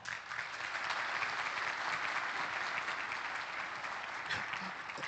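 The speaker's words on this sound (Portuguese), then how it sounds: "Uma salva de palmas." An audience at a panel on Brazilian agribusiness gives sustained, even applause that stays loud and steady throughout with no break.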